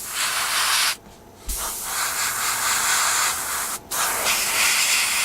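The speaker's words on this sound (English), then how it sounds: "So we're going to spray on this now" An aerosol can sprays paint onto a 1/48 scale Tamiya Supermarine Spitfire Mk.I model in long steady hisses, close and loud, broken by two short pauses.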